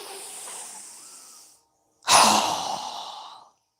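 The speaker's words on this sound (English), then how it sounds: "Strong exhale." Two forceful breaths through a yoga breathing exercise, a long airy inhale followed after a brief silence by a sharp, loud exhale that tails off over about a second and a half, close and alone with no talk.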